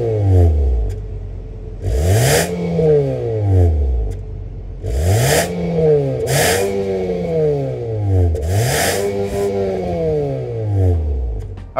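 A 2023 Nissan Altima SR's 2.5-liter four-cylinder engine revs loudly and close in three or four sharp blips that climb and fall back, settling to a steady idle between them.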